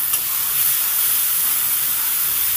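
Four green chillies drop into a spice paste that has been frying on medium heat, giving a steady, bright sizzle and hiss that stays loud and even throughout with no voices.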